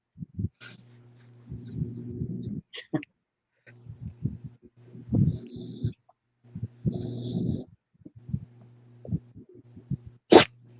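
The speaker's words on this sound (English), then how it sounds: "love when a dog sneezes." A dog sneezes during a casual livestream, a sharp burst near the end of the clip, preceded by stretches of people talking over a low steady hum.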